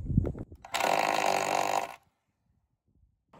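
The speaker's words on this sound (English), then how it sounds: "Nails are going in." Nails driven into a rafter bracket during rafter framing: a single loud, sustained mechanical burst lasting just over a second, with brief knocks before it and near-silence after.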